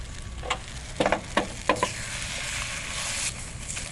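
Beaten eggs for an omelette cooking on low heat in a pan, a soft steady sizzle with several scraping taps as the eggs are pulled from the edge toward the centre.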